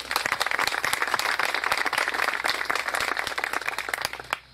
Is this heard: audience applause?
yes